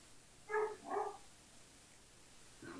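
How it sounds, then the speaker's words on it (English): A dog gives two short, fairly faint barks in quick succession, then a softer muffled sound follows after a pause, from a little distance and with no talk. "That'll be my dog."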